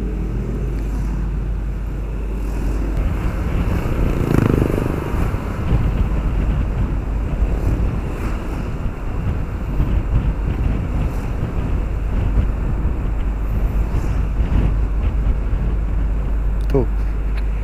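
A Honda PCX 150 scooter on the move, its engine slightly hesitant on first pull-away, comes through as a steady, loud rush of wind buffeting the microphone over a low, continuous drone with no break.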